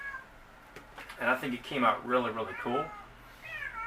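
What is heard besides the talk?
cat meowing in the background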